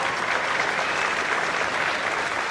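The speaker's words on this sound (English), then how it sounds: "Please give all of these students a round of applause." A school concert audience claps for elementary school band students, a dense, steady wash of applause throughout.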